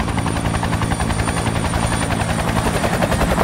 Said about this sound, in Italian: Hanno affittato anche un elicottero?